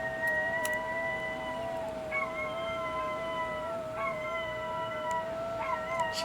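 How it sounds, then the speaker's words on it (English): A dog howls and whines in distress after one of the household members leaves home, a long wavering cry with rising and falling tones that pauses briefly and resumes several times, steady and close against a faint background hiss. "That is my dog crying because the wife left."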